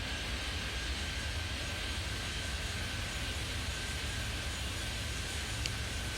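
An airplane taking off in the Airport Madness 3D airport game, a steady broadband engine roar with a faint whine, holding at an even level throughout with no voices.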